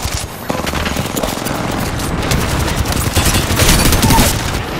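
Dense overlapping gunfire in an Apex Legends firefight, a continuous loud barrage of shots with no gaps, close and heavy throughout.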